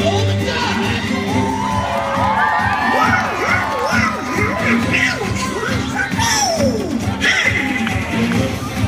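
A crowd of children cheers, shouts and whoops continuously at a pirate-themed Disney show, with excited high voices rising and falling over steady loud crowd noise.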